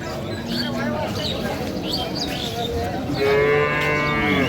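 Dairy cows and calves at a rural cattle market in Dinajpur, Bangladesh, moo loudly and nearby, with a long low call toward the end over busy crowd murmur and chatter.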